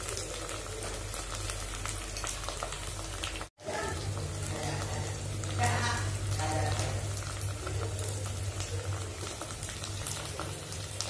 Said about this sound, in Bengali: মশলাটা ভাজাও হবে